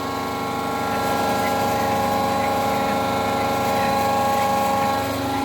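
A homemade mixer driven by a car windshield wiper motor gives off a steady, continuous mechanical whir and hum, close and even in level, with no talk.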